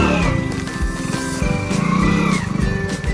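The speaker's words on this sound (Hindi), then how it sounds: "भाई पीछे टायर तो यार घूमने लग जा रहा है टायर" A vehicle's rear tyre spins in red mud while off-roading on a dangerous road in Rajouri, the engine droning and revving steadily up close, with rough scraping noise and occasional voices over it.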